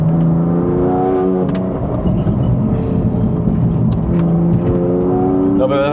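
BMW M4 GTS engine pulling hard on a race track, its rising harmonic whine climbing steadily through the gears, loud and close inside the cabin with a steady roar beneath.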